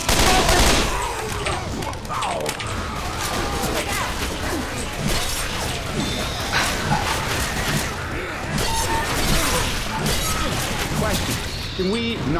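Dense gunfire and crashing impacts from Left 4 Dead 2 run steadily throughout, loud bursts and rattling shots layered over one another, with players talking over the action.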